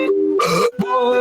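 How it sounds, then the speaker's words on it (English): A monkey burps several times in short, throaty bursts with tonal, voice-like harmonics, close to the microphone and loud, with a brief gap between belches. "Monkey can't stop burping."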